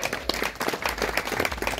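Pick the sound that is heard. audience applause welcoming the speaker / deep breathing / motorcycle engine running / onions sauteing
audience applause welcoming the speaker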